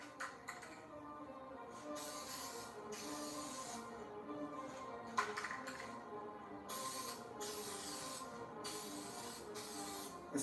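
Spray gun leaking paint while laying down a second coat, with intermittent bursts of hissing spray separated by quieter gaps, faint and close, with no talk.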